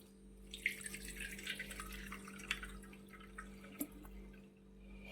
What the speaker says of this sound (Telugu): దీంట్లోకి కొంచెం చల్లగా అంటే కూల్ వాటర్ పోస్తే త్వరగా చల్లారుతుంది. కొన్ని వాటర్ పోద్దాం.